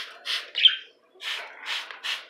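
Pet birds chirp and squawk in short, bright bursts during a shower, several calls in quick succession with brief pauses between, fairly faint and close, with no talk.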